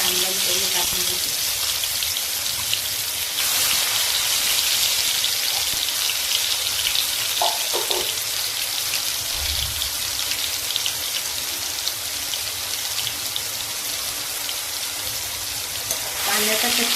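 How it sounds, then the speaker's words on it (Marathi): Ground onion paste sizzling in two to three spoons of hot oil in a kadhai on a gas stove, a steady dense crackle and hiss with faint background voice. "कांद्याचा कच्चीपणा जास्त होईपर्यंत कांदा परतून घेते"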